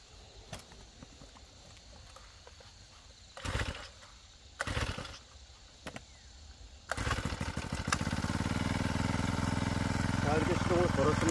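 Brush cutter being pull-started: a few sharp recoil pulls and brief sputters, then the engine catches and settles into a loud, steady idle.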